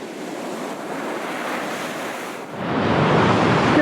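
Ocean waves wash onto the beach at Guerilla Bay near Batemans Bay, a steady broadband surf roar with wind buffeting the microphone, growing louder and closer toward the end.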